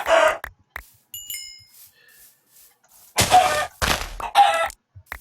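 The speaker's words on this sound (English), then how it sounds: "Man, there's chickens everywhere." Blocky Minecraft chickens give short clucks in bursts, mixed with a ringing chime and bright electronic tones, fairly loud and close.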